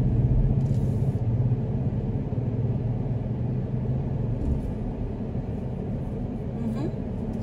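Steady low rumble of passing road traffic, cars and engines droning continuously at moderate distance, with people talking over it throughout.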